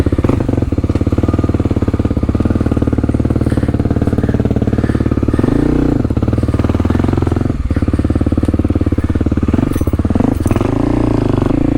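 A Kawasaki KLX300 dual sport motorcycle's single-cylinder engine runs loud and close throughout, with a steady buzzing drone that rises and dips slightly as the throttle changes on the ride.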